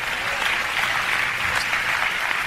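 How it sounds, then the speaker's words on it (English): Steady, dense clapping from a church congregation fills the whole stretch at even loudness, a continuous broadband patter with no voices standing out. "Clap your hands and praise his name."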